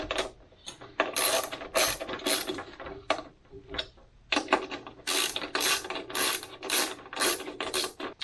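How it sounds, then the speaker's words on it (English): Bolts on a Skylink Atom garage door opener beam tightened with a ratchet wrench, producing repeated quick clicking ratchet bursts in uneven groups, close and fairly crisp. "Snug those bolts down."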